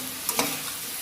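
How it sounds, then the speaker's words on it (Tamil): Mushroom biryani masala with chopped capsicum is sautéed and stirred in a pan, giving a steady close sizzle broken by a couple of quick scraping stirs. "ஒரு சின்ன குடமிளகா கட் பண்ணி இது கூட சேர்த்து வதக்கிக்கணும்"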